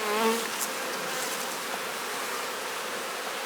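Bees buzz around an open hive with emerging drone comb, a steady close swarm hum that stays even throughout.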